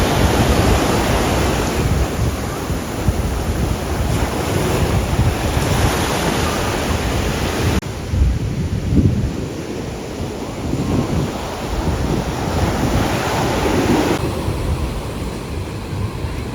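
Surf breaks and washes along Karon Beach in Phuket, Thailand, a constant roar of waves mixed with gusting wind buffeting the microphone, loud and unbroken throughout with no talk.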